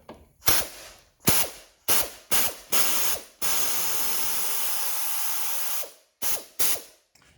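Allen key ratchet backing screws out of the dashboard plate on an Advan extended gas tank: several short, close clicking ratchet bursts, then one sustained whirring run before two more quick bursts.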